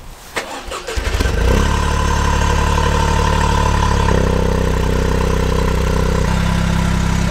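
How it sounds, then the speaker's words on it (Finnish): A BMW car engine heard through its intake cranks and catches, then settles into a loud, steady rumbling idle with a slight shift in tone partway through. "mä voin laittaa, mitä imuri kuulostaa"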